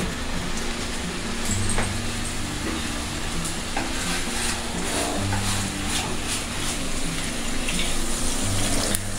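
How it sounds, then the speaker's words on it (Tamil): Water poured into a pan of chicken curry as it cooks, a steady sizzling and bubbling wash that runs evenly from start to finish with a few faint clinks. "ஒரு அரை கிளாஸ் தண்ணி சேர்த்துட்டு இதை அப்படியே நம்ம மூடி வச்சுக்கலாம்"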